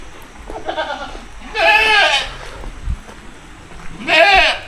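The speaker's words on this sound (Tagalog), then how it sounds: "Tingnan yung mga, ang dami mga kambing oh." Goats bleating in a cemetery at night in Argao, Cebu, several loud, wavering bleats from a nearby herd, separated by quieter background noise, with a soft thump between calls.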